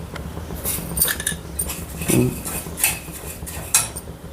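Rice and spices dry-roasting in a pan: light metallic scrapes and clinks of a spoon against the pan, in short irregular bursts, close and fairly quiet.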